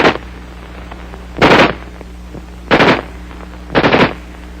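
Three separate bursts of automatic fire from an M16 (XM16E1) rifle, each a short rapid rattle of shots, loud and close, with quiet pauses between bursts.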